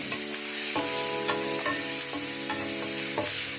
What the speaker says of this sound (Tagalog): Igigisa ko na yung brace ng mga mushroom.